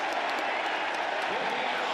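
A college football stadium crowd at a Texas Tech versus Arizona State game roars in a broad, steady wash of cheering and applause, with a commentator's voice over it.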